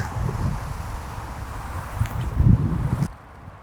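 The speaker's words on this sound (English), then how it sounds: "Oh, it's a bit windy." Steady wind buffets the microphone in a low rumble, with a brief rustle near the end before it suddenly drops away.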